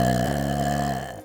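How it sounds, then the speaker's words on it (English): A single drawn-out burp, close and fairly loud, with a low rough tone that fades at the end, heard alone. "Applejack burped and laughed."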